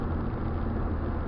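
Inside a 1992 Fiat Uno 60S cruising at about 90 km/h, a steady, dense roar of engine and road noise fills the cabin at an even loudness, with no talking.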